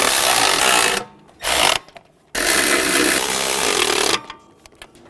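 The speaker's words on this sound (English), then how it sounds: "Using a 14mm socket, go around and snug down all of the nuts." Power tool spinning a 14mm socket to snug down exhaust manifold nuts on a 2011-2014 Hyundai Sonata, loud whirring bursts that start and stop several times with brief pauses between them.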